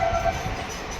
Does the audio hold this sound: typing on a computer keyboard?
no